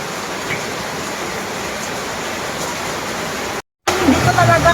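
Heavy rain pours down in a loud, steady broadband hiss that fills the whole scene, briefly cutting out before resuming with faint background sounds underneath.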